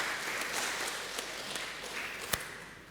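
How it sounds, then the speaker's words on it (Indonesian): Church congregation at a Sunday service in Surabaya giving a round of applause, with soft, steady, dense clapping filling the room and one sharp tap standing out near the end. "Mari kita berikan tepuk tangan sekali lagi untuk menyambut mereka."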